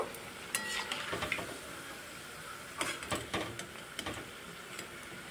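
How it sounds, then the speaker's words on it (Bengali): Cabbage pakoras frying in hot oil, a quiet sizzle broken by a few sharper clinks and stirring scrapes of a utensil against the pan, close and without talk. "বাকিটা পাকোড়াও একইভাবে ভেজে নেব"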